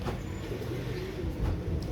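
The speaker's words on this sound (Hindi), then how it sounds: "ये मेरे कबूतर हैं दोस्तों।" Pet pigeons kept by a breeder give soft, low cooing over a steady background rumble of nearby traffic, the calls faint and blended into the ambient noise.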